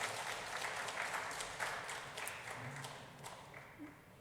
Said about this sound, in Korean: 우리 은평찬양단 우리 박수로 격려하겠습니다